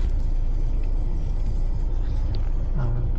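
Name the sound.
road traffic rumbling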